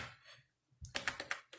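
Typing on a Five Below Xtreme Tech wireless keyboard, a quick burst of about six crisp, close key clicks after a brief moment of faint noise.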